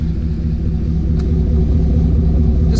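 A warm Chevrolet Silverado 1500 truck idles with a steady, deep exhaust rumble, low and continuous at moderate volume throughout, with no voices.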